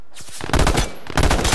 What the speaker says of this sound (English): Shooting at me with a hellfire.